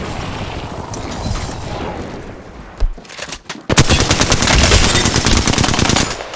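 Apex Legends gunfire roars in loud rapid bursts of automatic fire, briefly pausing before a sustained barrage resumes.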